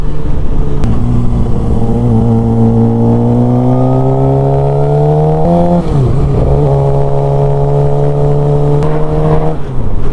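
A Suzuki GSX-R K7 sports motorcycle engine, an Isle of Man TT Special, is loud and close, its pitch rising smoothly through a long rev, dipping briefly, then holding high again with no talking over it.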